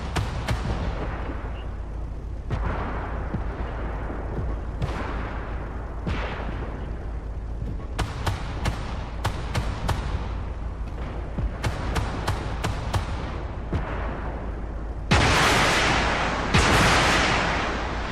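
Heavy tank cannon blasts and explosions boom repeatedly over a rumbling video game soundscape, with sharp reports scattered throughout and two big bursts near the end.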